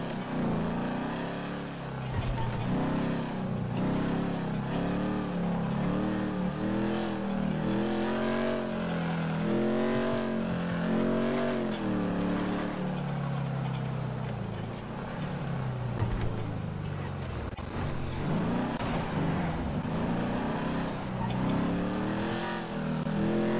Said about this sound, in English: So we've got some driving to do now.